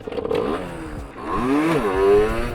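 A dirt bike engine revs during a wheelie, rising and falling in pitch as the throttle opens and eases off, heard fairly close and loud over a couple of seconds without speech.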